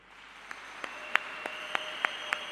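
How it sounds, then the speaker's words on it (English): Scattered audience handclaps break out at a spiritual day ceremony in Africa, about seven sharp, separate claps spaced out over a faint, rising room hum. "let us give a round of applause to Mama Kathy"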